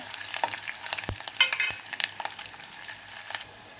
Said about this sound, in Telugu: ఇప్పుడు ఆనియన్స్ అనేది కొద్దిగా ఫ్రై అవ్వాలి